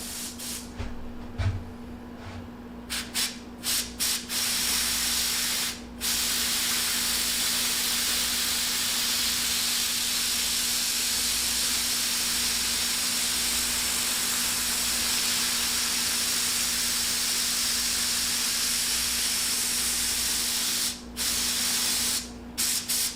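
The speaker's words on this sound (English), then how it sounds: "I'm going to start out with my airbrush. I'm going to start out painting the glass part of the eye" An airbrush sprays paint onto the glass eye of a deer taxidermy mount, giving a close, steady hiss that runs almost continuously for over twenty seconds, broken by a few brief pauses near the start and end, with no talking.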